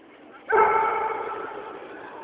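A one-year-old St. Bernard gives a single deep, drawn-out bark that trails into a long fading howl, close and fairly loud after a quiet start.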